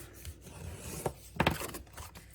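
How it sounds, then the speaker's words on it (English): A bone folder is rubbed along the folds of a paper envelope in short, close scraping strokes, with one louder burst near the middle. "I'll get my bone folder, whoops, and give it a good burnish on all 4"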